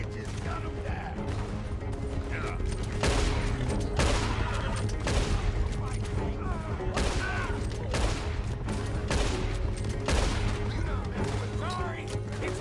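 A shootout in the video game Red Dead Redemption 2, with repeated loud bursts of gunfire cracking in irregular clusters over steady background noise, voices shouting now and then.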